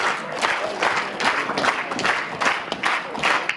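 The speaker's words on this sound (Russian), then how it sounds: "зал аплодирует" An audience in a cinema hall applauds at a film premiere, giving continuous, moderately loud clapping from many hands with no voices over it.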